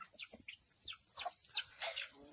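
Chickens cluck and chirp in a series of short, scattered calls before feeding time in a backyard flock, fairly close and moderately loud, with no talking.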